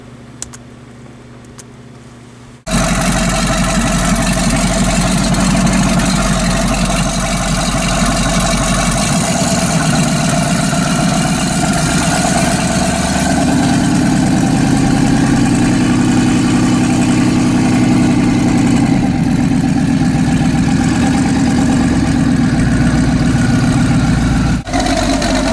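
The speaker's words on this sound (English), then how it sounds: "I can listen to that idle all day though." Twin-turbo Ram 1500 truck engine starts and then idles steadily and loudly up close with a deep, rumbling burble that rises slightly partway through, with no talk.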